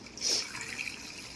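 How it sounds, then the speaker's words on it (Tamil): Water pours in a soft, steady trickle, fairly quiet and close, with a slightly brighter splash near the start. "தண்ணி ஊற்றிக்கலாம்."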